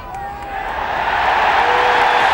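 Crowd at a rugby league match in Swansea rising into a cheer for a goal, a broad roar that swells and holds loud to the end.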